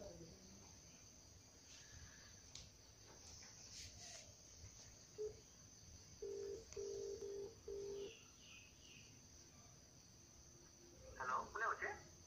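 Telephone dialing tones, several short steady beeps in a row near the middle, then a brief burst of higher tones at the end, faint against a quiet background with insect-like chirping.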